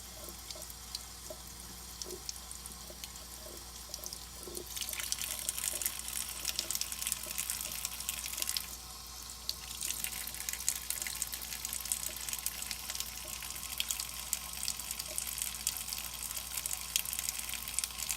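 Tap water runs steadily over a freshly dug-up Mercury dime, a broadband hiss of flowing water that grows louder after a few seconds and carries on alone, with no voices.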